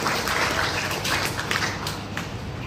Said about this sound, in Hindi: आप लोग के लिए भी ताली मारने जा रहा हूं।